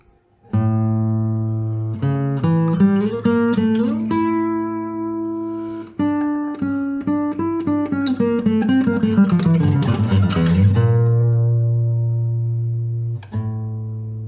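A single unaccompanied classical guitar melody moves through low bass notes, opening with a rising arpeggio of the dominant chord, then sustained and stepping tones played slowly and expressively.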